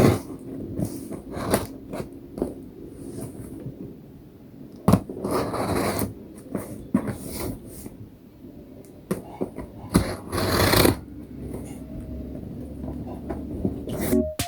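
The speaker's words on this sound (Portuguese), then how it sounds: "quando você passa a tesoura ou a faca no... Ah, esqueci o nome desse plastiquinho, gente. É da fita, né? Quando você passa na fita e aí faz esse barulho." Scissors or a knife scraping and slicing packing tape on a cardboard box during an unboxing, a series of crisp scratchy cuts and crackles, close up and irregular.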